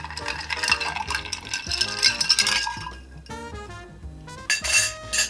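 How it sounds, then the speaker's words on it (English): Ice clinks and rattles as a bar spoon stirs a gin and Fernet Branca Hanky Panky cocktail in a mixing glass, a busy run of bright, close metallic and glassy chinks with background music. "grab a bar spoon and give it a stir for about 25 seconds"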